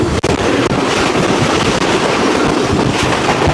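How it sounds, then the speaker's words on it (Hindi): The Shalimar Express, running from Lahore, rushes past at high speed, a loud, continuous roar of wheels and wind that stays close and unbroken throughout. "बहुत ही हाई स्पीड क्रॉस हुआ है ये हमारा शालीमार एक्सप्रेस से"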